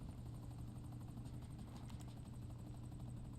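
A helicopter in the video game GTA Online gives a steady, continuous rotor drone with a faint buzzing edge, close and unbroken, with no talking.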